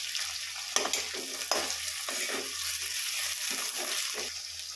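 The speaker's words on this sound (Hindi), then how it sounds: "लहसुन मिर्ची का तड़का लगा के और आलू को इस तरीके से फ्राई कर लेती हूँ" Potatoes fry in a pan over a garlic and chili tempering, with a constant hiss of oil broken by repeated scraping, stirring strokes, loud and close, with no talking.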